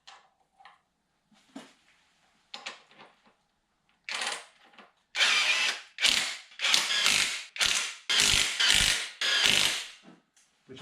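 Torque wrench ratcheting bolts while a refurbished drivetrain is fitted into a TVR Tuscan, first a few sparse clicks, then a series of loud, close bursts of rapid ratchet clicking.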